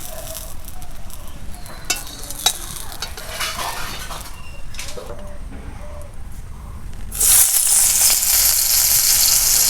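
Onions go into a pan of hot oil, with light stirring clinks and faint frying at first, then a loud, steady sizzle bursts up partway through and holds to the end.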